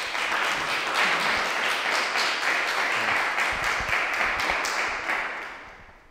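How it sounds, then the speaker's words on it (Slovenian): Applause from a Toastmasters public-speaking club audience in Ljubljana welcoming a speaker, steady dense clapping at close range throughout, tapering off near the end. "Tako da pozdravimo z velikim aplavzom Mateja."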